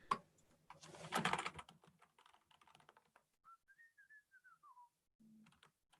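A computer keyboard being typed on in a quick burst of clicking keys, followed by sparse taps and a short melodic whistle.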